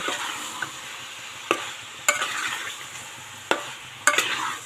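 Spiced chicken pieces for a chicken curry fry in a pot with a soft continuous sizzle, punctuated by a handful of sharp knocks and scrapes as a spoon turns the meat.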